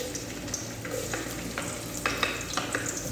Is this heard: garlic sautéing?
yes